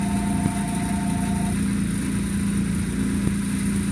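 A 1973 Chevrolet Caprice engine running after being cranked, a steady mid-pitched idle with a constant rumble and faint whine, close and unbroken with no talk.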